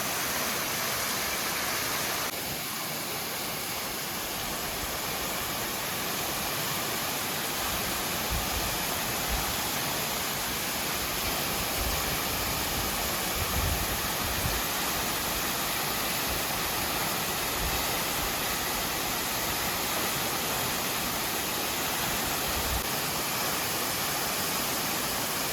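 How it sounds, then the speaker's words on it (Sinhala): Kolapathana waterfall near Mandaram Nuwara, Sri Lanka, heard from its base as a steady, broadband roar of falling water, constant and fairly close, with no voices. "කොළපතන ඇල්ල පාමුල"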